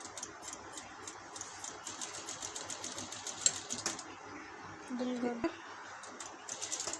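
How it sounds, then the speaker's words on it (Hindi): Sewing machine stitching a fabric strip on a long designer kurti, a rapid ticking needle rhythm that runs steadily, pauses briefly near the middle, then resumes, with a low motor hum underneath and no talking. "इस पट्टी की सिलाई हम यहीं तक ही करेंगे"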